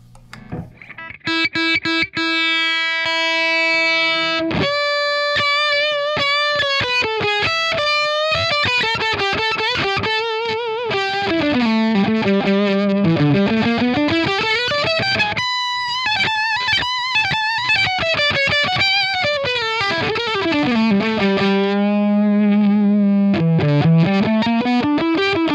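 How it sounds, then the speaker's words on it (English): Heavily distorted electric guitar through the distortion side of an AJ Peat Screaming Flamingo pedal plays loud riffs, held notes and sweeping bends, thick saturated tone up close, no voices. "now we're going to check out the distortion side of the pedal"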